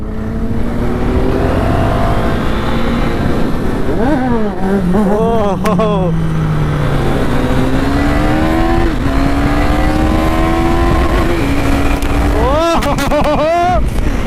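A KTM 390 motorcycle ridden fast, its engine a loud, steady close drone with rising and falling revs through gear changes and wind rush throughout.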